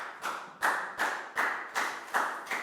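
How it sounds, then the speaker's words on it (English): Six sharp, evenly spaced claps ring out in a children's Year 4 science lesson, a small group clapping in unison for a student, each clap crisp and close with a short decay, no talk over them. "High five and a big round of applause for Nadia,"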